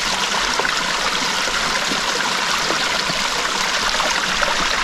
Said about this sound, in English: What's that noise? Running water?